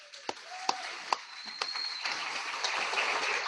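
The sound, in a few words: audience applause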